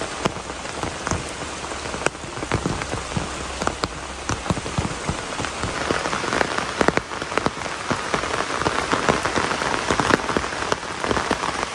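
Heavy rain pours onto a flooded road through a garden plantation, a dense, steady hiss of drops hitting water and surfaces, loud and continuous with no voices.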